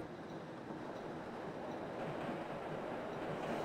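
Passenger train arriving at Budapest-Keleti station in Microsoft Train Simulator, a steady rolling rumble of wheels and carriages that grows slightly louder, with no talk.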